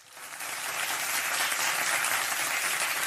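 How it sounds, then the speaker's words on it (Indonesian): Applause for contest participants at a young entrepreneurs' grand final, swelling quickly from quiet into a full, dense crowd clapping that stays steady throughout. "kita beri tepuk tangan yang meriah untuk para peserta"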